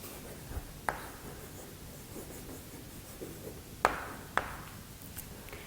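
Writing on a board in a classroom lesson, quiet scratching strokes with a few sharp taps and squeaks, faint and intermittent over a low background hiss.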